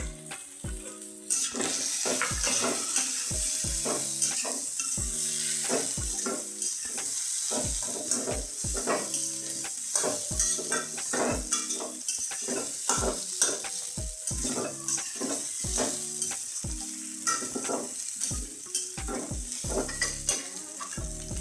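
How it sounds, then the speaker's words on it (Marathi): Chopped onion sizzles and fries in a pan with turmeric and potatoes, with loud, continuous crackling and frequent scraping, clattering stirs of a utensil against the pan throughout. "आता आपला कांदा भाजलाय बघा."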